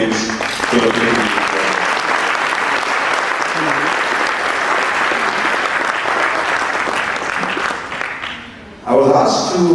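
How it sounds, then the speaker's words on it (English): A large audience applauds at the Asia CEO Forum 2013, a dense and loud sustained clapping that fills most of the stretch before fading near the end, where a voice begins to speak. "it's important that we give them a big round of applause"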